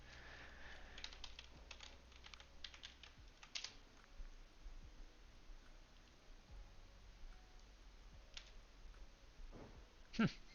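Typing on a computer keyboard while programming, with quiet, irregular close-up key clicks running in bursts throughout and a few louder taps.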